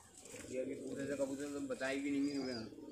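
Pigeons coo softly and repeatedly nearby in a bird keeper's loft of Bajre pigeons, a low warbling murmur under quiet background talk.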